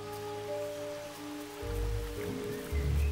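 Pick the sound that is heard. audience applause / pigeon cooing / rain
rain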